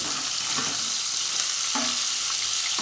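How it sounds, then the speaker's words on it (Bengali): Small guru fish fry lightly in oil, a dense continuous sizzling hiss close to the pan with a few faint stirring knocks, no voices over it. "মাছগুলো আমি অল্প অল্প করে ভেজে নেব"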